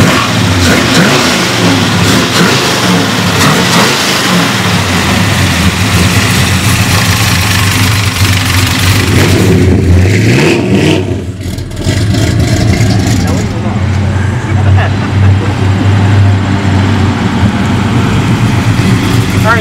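A 1955 Chevy Bel Air with a 383 stroker V8 revs and accelerates hard, loud and close, the engine note rising and falling over a sustained drive with a brief dip midway; people talk over it.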